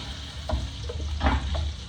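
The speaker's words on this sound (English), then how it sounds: "Just hear that nice sizzle." Pork ribs sizzle loudly in a hot pan, a steady frying crackle with a few sharper bursts as pieces are laid in.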